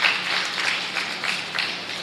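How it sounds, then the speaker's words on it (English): Modest audience applause at a county fair rabbit show, clapping for three exhibitors; fairly quiet and brief, with uneven swells and individual claps over a steady patter. "Let's give all 3 of our exhibitors a round of applause"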